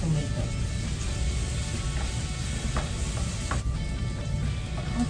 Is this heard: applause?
no